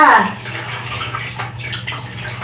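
Warm water splashing and pouring during a dog's bath, a steady wet rush with a strong splash at the start, while someone talks over it.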